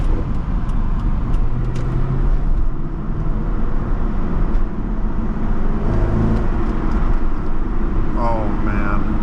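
A 2000 Chevrolet Corvette C5 engine pulls hard from low revs, a deep, loud, steady roar with heavy road and wind noise heard from inside the cabin, and someone talks over it.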